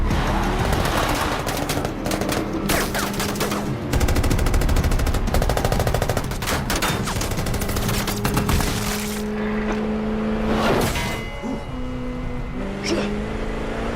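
Rapid machine-gun bursts rattle through a film battle scene, mixed with revving vehicles and shouted voices, the gunfire loud and repeated in clusters.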